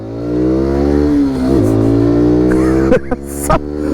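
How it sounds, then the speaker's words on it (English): A SYM NH-X 125 motorcycle engine revs hard under wide-open throttle, its steady loud drone rising in pitch, then dropping at gear changes as it accelerates through the gears, close and dominant throughout. "so much fun to roll through the gears and wide open throttle it"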